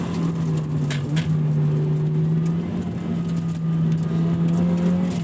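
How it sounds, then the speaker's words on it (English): A 1990 Mazda RX-7 FC rotary engine holds a steady, smooth hum from inside the cabin as the car is driven, with a few light clicks over the engine note. "rotaries, they really need to be wound out because they have very little torque"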